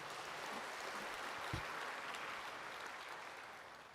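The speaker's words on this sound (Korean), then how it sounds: "여기 안 계시면 박수 한번 해주세요" A church congregation breaks into soft, distant applause that holds evenly for a few seconds before slowly fading.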